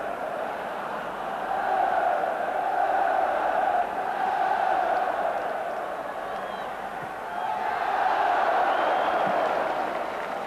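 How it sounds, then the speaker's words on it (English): A large football crowd at Ibrox roars and cheers in a steady, distant wash of noise that rises and falls in long swells during a Rangers versus Stranraer match. "the Ibrox faithful acknowledged the unhappy plight of the visitors and began cheering any Stranraer move"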